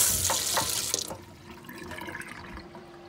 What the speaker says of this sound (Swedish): Nu tar man och sköljer den här i kranen.